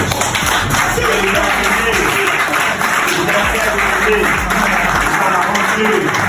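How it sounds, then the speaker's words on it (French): Business presentation audience in a hall applauding loudly and continuously, dense clapping with voices and cheers mixed underneath throughout. "Est-ce qu'on peut applaudir pour notre diamant 5, le leader 5?"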